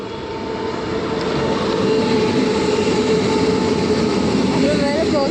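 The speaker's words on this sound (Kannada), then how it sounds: "ಗೂಡ್ಸ್ ಟ್ರೈನ್ ಇದು." A goods train rolls past on an Indian main line. Its loud, continuous roar swells over the first two seconds, then holds steady and close, with faint rising tonal whines near the end.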